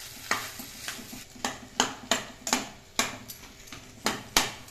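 Potatoes coated in tomato sauce stirred in a pan, a spoon scraping in about nine regular strokes over a soft background sizzle, close and moderately loud with no talking.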